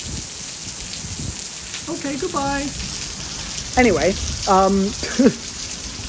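Steady rain falls outdoors as a constant hiss, while a person speaks briefly over it in short phrases.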